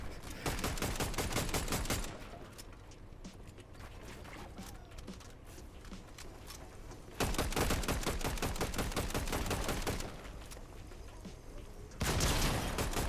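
Video game gunfire crackles in rapid bursts during a cash cup match, with dense volleys at the start, around the middle and at the end, and quieter scattered shots between them.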